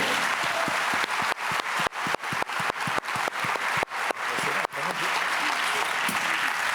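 A crowd at a ceremony applauds steadily for several seconds, a broad wash of many hands with sharp gaps and resets, moderately loud and without speech on top.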